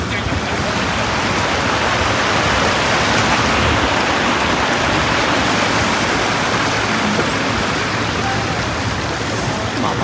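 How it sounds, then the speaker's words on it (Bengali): Stream water rushing loudly beside a partly frozen Kolsai Lake, a dense continuous roar of flowing water with no pauses, close and steady throughout. "দেখুন কল কল করে জল বয়ে যাচ্ছে"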